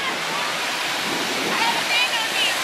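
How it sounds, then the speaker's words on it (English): Water washes up onto a firm sand beach once used for car racing, a continuous broad rushing hiss of surf swelling slightly louder near the end. "Water's coming right up on us here."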